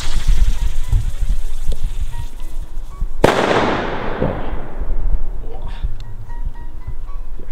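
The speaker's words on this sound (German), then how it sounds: "ein kubischer Kanonenschlag von Deko" A cubic Kanonenschlag firework salute from Deko goes off with a single sharp, loud bang that rings out and slowly fades into outdoor ambience.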